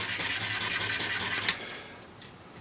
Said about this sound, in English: Take a little bit of 400 grit and clean a few things up